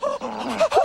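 A dog, Fergus, gives a short yip and bark in a Bud Light beer commercial, two quick close vocal bursts with a brief whimpering edge.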